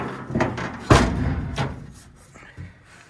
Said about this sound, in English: Gotta close up the door.